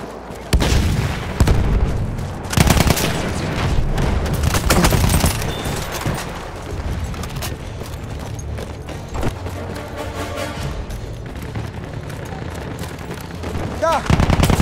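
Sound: enemy machine gun fire in Battlefield 1 video game

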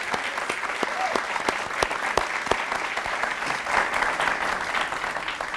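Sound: audience applause for volleyball player

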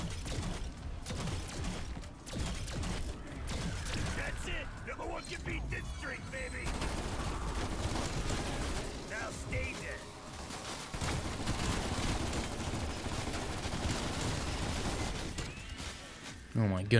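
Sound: gunfire from a weapon in the video game Call of Duty Zombies

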